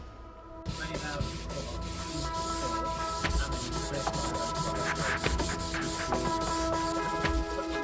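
Steady abrasive rubbing of sandpaper across a guitar fretboard held in a fret radiusing jig, a continuous close, dense scratching with quick strokes and scattered light knocks, no talking.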